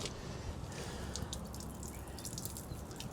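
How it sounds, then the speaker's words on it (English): Water drains from an RV's plumbing through opened valves during winterizing, a steady rushing, trickling flow with scattered drips, continuous and fairly close. "that's going to start letting water drain out of our plumbing"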